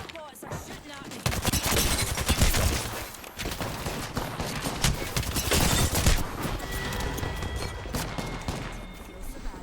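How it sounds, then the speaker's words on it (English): Robots firing guns in Apex Legends: dense, close rapid gunfire in overlapping bursts with sharp cracks and rattles, briefly pausing before resuming, with some speech mixed in. "Robots are shooting at me."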